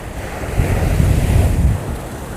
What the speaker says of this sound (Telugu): సో సముద్రం చూడండి.